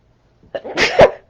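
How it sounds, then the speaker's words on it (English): A big sneeze from one person, a quick intake of breath and then a loud, sharp burst, close and alone in an otherwise quiet room. "that was a big sneeze"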